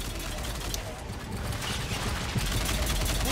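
Rapid gunfire from a Mass Effect 3 multiplayer match crackles as a steady, dense barrage under continuous talking, with a slightly louder burst near the end.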